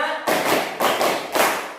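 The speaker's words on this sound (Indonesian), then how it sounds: "Tepuk 1, tepuk 2, tepuk 3, tepuk 4, tepuk 5." Classroom of students clapping in a counted rhythm, three loud group claps landing together at even intervals, close and sharp with no talk over them.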